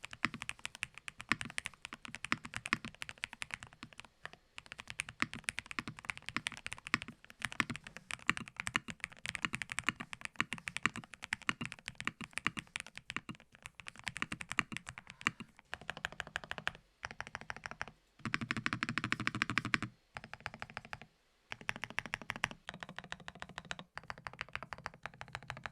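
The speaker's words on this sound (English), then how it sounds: "here are a couple of sound tests using the stock keycaps and then the dots keycaps" Close-up typing on a Nuphy WH80 hall-effect keyboard, first with stock keycaps and then dots keycaps: fast, continuous bursts of crisp keystrokes with brief pauses between runs, no voices.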